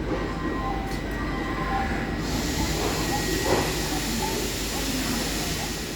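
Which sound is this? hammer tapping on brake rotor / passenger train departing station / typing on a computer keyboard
passenger train departing station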